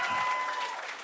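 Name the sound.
audience applause at a stand-up comedy show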